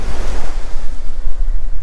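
Ocean waves wash in on an open beach at Kathryn Abbey Hanna Park in Jacksonville, Florida, a loud, close, continuous roar of surf mixed with wind buffeting.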